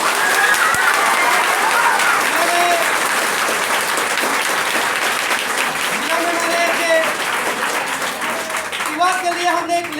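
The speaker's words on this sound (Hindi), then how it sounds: "जोरदार तालियों के साथ मैं स्वागत करना चाहता हूँ" A seminar audience bursts into loud, sustained applause to welcome the guests, a thick wash of clapping lasting throughout, with a voice speaking over it at moments.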